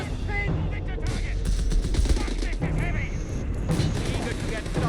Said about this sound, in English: MG fire! He's carrying us! weapon and crew. Indirect fire!